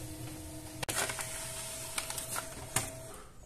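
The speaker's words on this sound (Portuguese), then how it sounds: "imprimir página de teste." An HP LaserJet Pro M102w laser printer runs a test page, a steady mechanical whir with a sustained tone, punctuated by a few sharp clicks and clunks of the paper feed, close and alone.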